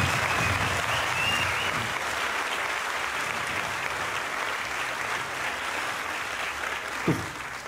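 Loud, steady audience applause filling the room, a dense continuous roar of clapping that holds evenly from start to finish with a single louder thump near the end.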